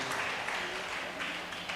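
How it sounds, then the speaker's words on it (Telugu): Crowd applause at a church prayer and healing meeting, a steady wash of clapping held at even volume throughout with no voices on top. "గట్టిగా చప్పట్లు కూడా గట్టిగా దేవుని మహిమ పొందుతాం"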